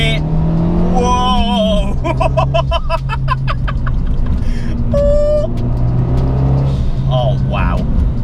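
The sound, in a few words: 250 BHP Abarth 500 car accelerating through gears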